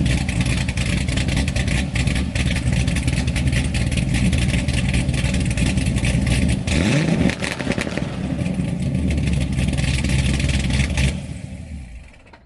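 Steady, close engine rumble from a parked car idling in a city street, holding a constant low drone throughout with a brief pitch sweep midway, then fading out at the end.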